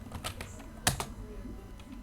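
Computer keyboard keys tapped to enter a php artisan migrate command, a short irregular run of clicks with one sharper keystroke, close by, under faint speech.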